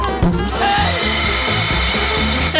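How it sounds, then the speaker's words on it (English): A vacuum cleaner runs steadily and loudly with a constant motor whine, close by, and light knocking or bumping sounds recur throughout. "This vacuum will eat all the worms fast!"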